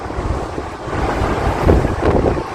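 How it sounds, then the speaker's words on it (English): Strong typhoon wind buffets the microphone on a coast while large waves surge and crash, a loud, continuous roar. "On the western coasts, the impact is felt with large waves, driven by the strong winds"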